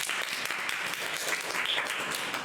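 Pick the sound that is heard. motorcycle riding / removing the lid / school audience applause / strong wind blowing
school audience applause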